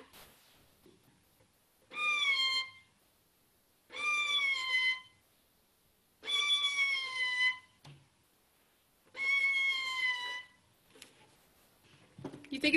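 A violin bowed to mimic a cat, producing four separate sliding meow-like notes with pauses between them, loud and close with no talking.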